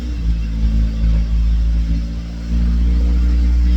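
An ice racer's engine, just fixed for a fuel pump and broken ground fault, rumbles loudly and close, rising briefly in revs before settling into a steady running drone.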